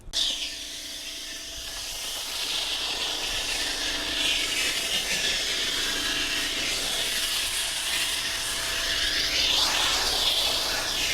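Foam cannon spraying thick Clean by Pan car shampoo over a car: a steady, close hissing spray that runs unbroken for the whole stretch, with no talking.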